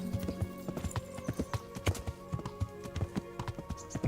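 Horse hooves clip-clop in a steady, brisk rhythm in the medieval video game Kingdom Come: Deliverance, with the close, even hoofbeats carrying over a soft background.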